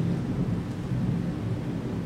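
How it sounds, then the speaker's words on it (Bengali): Continuous low rumbling thunder rolls under steady rain, a dense, unbroken storm noise heard from indoors. "ঘরের মধ্যে বসে ওরা অবিরাম ঝড় জলের শব্দ শুনতে পাচ্ছে"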